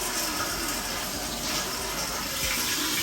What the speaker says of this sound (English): I'm gonna go ahead and I'm gonna wash it off